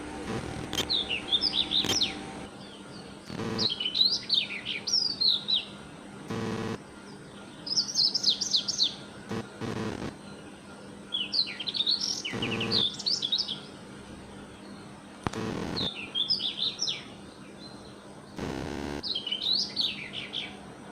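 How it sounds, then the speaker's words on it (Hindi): Birds chirp in repeated bursts of high, quick tweets, with short gaps between phrases and a few sharp knocks in the background. "मेरी विंडो के बाहर से जो है बहुत चिड़ियों की आवाज़ें आ रही हैं।"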